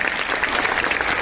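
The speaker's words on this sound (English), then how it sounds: "So please give them a huge round of applause." Applause from a school audience at an animal awareness event, a steady dense patter of clapping throughout this short stretch at moderate loudness.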